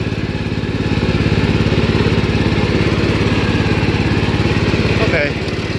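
A 1973 Gravely 814 walk-behind tractor engine drones loudly and steadily in third low gear, a rough close-range single-cylinder thrum that runs almost unbroken and dips slightly near the end.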